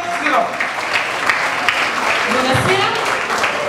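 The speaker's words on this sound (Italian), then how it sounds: "Applauso a Grazia Sgro." Crowd applause for singer Grazia Sgro at a music talent convention, dense sustained clapping filling the room with voices mixed in beneath it.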